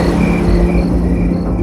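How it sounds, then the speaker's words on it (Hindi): Crickets chirping at night, a steady pulsing trill with a few brighter chirps, continuous over a low constant background hum. "चारों तरफ सिर्फ झींगुरों की आवाज और सूखे पत्तों की सरसराहट थी।"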